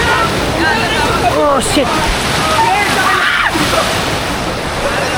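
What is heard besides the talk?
heavy rain and water at a river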